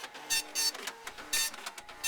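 An Epson LQ-500 dot matrix printer prints in loud, raspy bursts of rapid head chatter separated by shorter pauses and softer mechanical ticks, close up with no voices.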